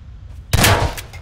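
Gunfire in the video game Garry's Mod during a Prop Hunt match: an abrupt loud burst erupts after a brief quiet lead-in and holds as a dense, noisy blast of shots before tapering slightly.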